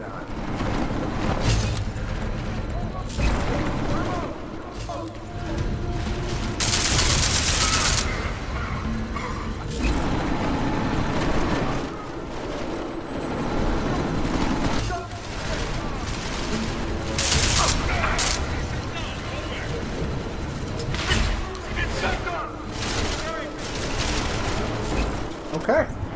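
Gunfire in the video game Deus Ex: Mankind Divided, with repeated bursts and loud bangs running through a dense, busy game soundscape, someone talking over parts of it.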